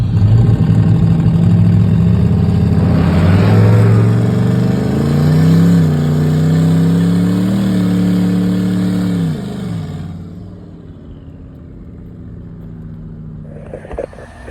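Cars launching at a drag strip, including a cammed, nitrous 5.3 Chevy S10 and a 6.0 S10. Loud close engines rev and hold with rising, falling pitch swings, then the roar drops away into quiet after about ten seconds.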